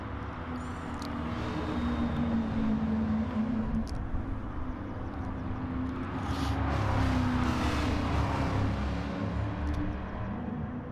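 Race car engines from a Driversroom Festival of Speed racing video game, a steady loud drone with tonal whine rising and falling as cars run continuously, with no talking.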